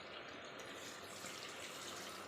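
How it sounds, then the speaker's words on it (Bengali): Water pours steadily into a pot of mutton curry, a continuous soft gushing splash lasting a couple of seconds with no talking. "সময় অভাবের জন্য আমি এতে জল দিয়ে দিলাম।"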